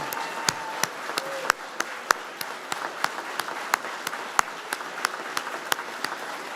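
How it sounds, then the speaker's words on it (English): A large crowd at a graduation ceremony applauds steadily, dense clapping with scattered sharper claps standing out, sustained and fairly loud with no talking. "so we can give you one final applause for your hard work and effort."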